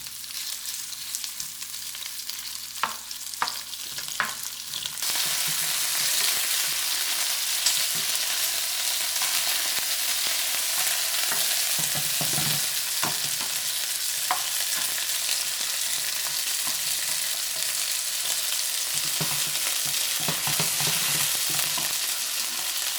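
Shrimp fry in olive oil in a pan, a loud steady sizzle that swells after a few seconds, with occasional clinks and scrapes as they are stirred and turned.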